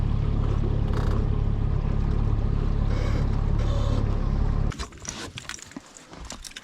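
A motorboat cruises up a river while fishing for Murray cod, a steady low engine rumble that drops away suddenly, leaving quieter scattered knocks and water sounds.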